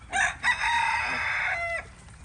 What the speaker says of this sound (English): 2 of the 3 wandering roosters I need to deal with.